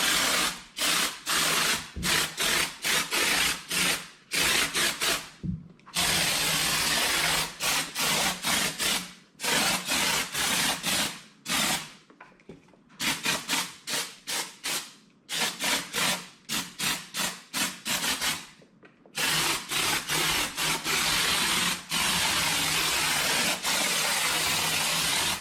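Bursts of FastCoat spray foam insulation hissing from a can onto a wall, loud and close, in repeated spurts separated by short pauses, with no talking.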